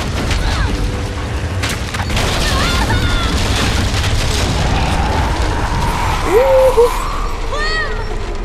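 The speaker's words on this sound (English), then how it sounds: "How many explosions are gonna happen?" Video game explosions from The Walking Dead: deep booms and rumbling blasts recur amid clattering bursts like gunfire, with shouting voices and chaotic noise throughout.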